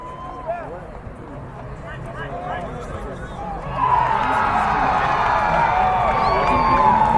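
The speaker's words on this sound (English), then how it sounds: "The goal cheering you hear is scored on the other Stars field." A distant crowd cheers a goal scored on a neighboring soccer field during a youth match between Port Orchard FC and Crossfire Premier, rising into a sustained roar midway over steady outdoor ambience.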